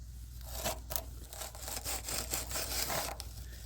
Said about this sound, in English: all I end up doing is just pushing it in with a ramrod